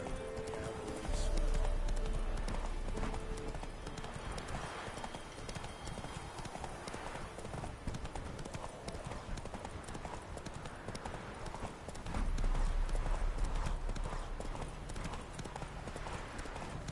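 A horse gallops in The Witcher 3, with rapid hoof clip-clops drumming continuously beneath a dense game soundscape, moderately loud throughout.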